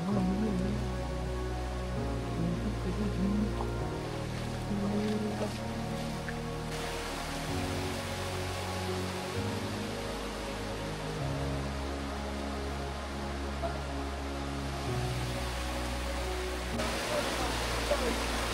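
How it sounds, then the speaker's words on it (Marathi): Small Vjhar waterfall in the Konkan countryside, heard as a steady, broad rush of falling water running the whole time, fairly close, with low rumbling and occasional voices mixed in. "इथे छोटा धबधबा आहे मित्रांनो"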